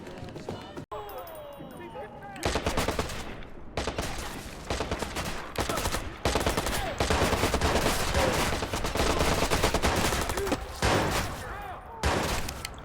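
Rapid bursts of MP5 gunfire in the video game Fallout 76 start a couple of seconds in and continue nearly unbroken, loud and dense, with a voice talking over the shooting.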